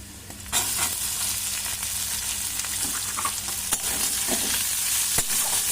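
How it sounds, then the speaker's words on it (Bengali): Chopped onions drop into hot oil with whole dried red chillies and fry with a loud, steady sizzle, broken by scrapes and clinks of stirring, continuous and close throughout. "এই সময় আমি দিয়ে দেবো কুচিয়ে রাখা পেঁয়াজগুলোকে"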